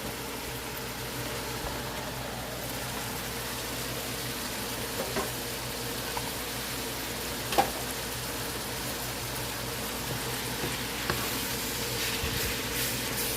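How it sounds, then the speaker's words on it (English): Green peppers and meat sizzle together in a pan with strong white onions for chili. A constant, moderate frying hiss runs throughout, with a few faint clicks and scrapes from stirring. "I'm going to get the green peppers in there. And let that cook in with that meat."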